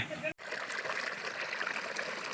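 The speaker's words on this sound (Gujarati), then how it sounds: "ધીરું ધીરું ધીરું ગાજે છે પાણી" Soft, steady trickle of water from a spring, close by and continuous, with a brief dropout near the start.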